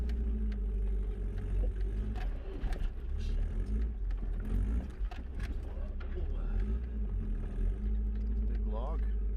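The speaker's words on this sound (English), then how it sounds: "we were going to have to drive over the big saguaro log, but this time going uphill." An off-road vehicle climbs uphill over a big saguaro log about 18 inches thick on an Arizona desert trail, its engine rumbling steadily and loudly throughout, with a voice speaking over it.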